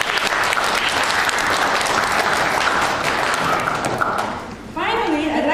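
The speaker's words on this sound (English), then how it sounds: "so let's give them a big round of applause." An audience at a conference opening ceremony gives a loud, sustained round of applause that fills the hall and dips briefly near the end before a voice starts speaking.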